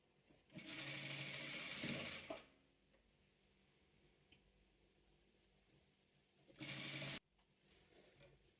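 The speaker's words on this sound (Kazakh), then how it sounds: "Міне тігіп алдым." A sewing machine stitches six-colour patchwork fabric in two bursts: a steady, loud whirring run of nearly two seconds, then a short half-second spurt after a quiet pause, with no one talking.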